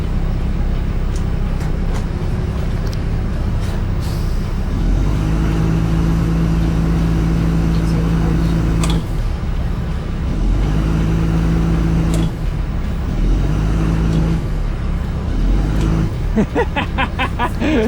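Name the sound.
abandoned RV engine revving, trying to drive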